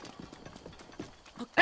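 Horse hooves clip-clop at a steady trot in Zelda: Breath of the Wild, soft repeated thuds moderately close, ending in a sharper loud burst.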